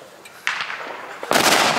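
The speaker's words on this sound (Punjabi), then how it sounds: "ਦੇਖ ਇਹਨੂੰ ਕਹਿੰਦੇ ਨੇ ਪਟਾਕਾ" Diwali firecrackers going off nearby, a sharp bang followed by crackling bursts and a second loud report that rings on.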